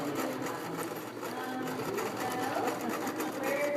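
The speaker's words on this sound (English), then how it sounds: "she is sewing and making an apron" Sewing machine stitching fabric for an apron, a soft continuous rapid mechanical whir with a fine rhythmic chatter, heard close and fairly quiet, with no talk over it.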